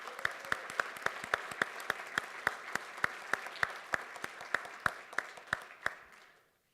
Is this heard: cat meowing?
no